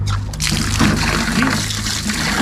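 Water trickles and splashes into a bucket as potassium fertilizer is diluted, roughly half a litre of solution to ten litres of water, a steady close liquid pouring and stirring sound with no talk.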